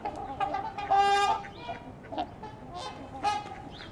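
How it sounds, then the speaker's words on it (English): A herring gull gives a plaintive, drawn-out call near a flock of trumpeter swans, then shorter cries follow amid scattered honking in the background. "I think that was a herring gull."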